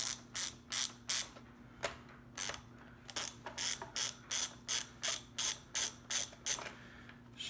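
A ratchet with an 11mm socket removes bolts from the climate control unit of a 1998–2002 Toyota Land Cruiser or Lexus LX470, giving steady runs of crisp close clicks in bursts against a faint background hum.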